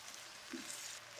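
Tomatoes go into a frying pan on medium flame while cooking spicy matar keema pulao, giving a faint, steady sizzle with a soft splash around the middle and a brief louder clatter at the end.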